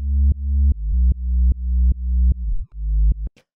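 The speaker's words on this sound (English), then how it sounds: "Then for the sub bass, it sounds like this on its own." A sub bass synth built from a plain sine wave in Operator plays a deep, smooth repeated bass line alone, a steady rhythm of held notes with a pitch bend that slides down near the end.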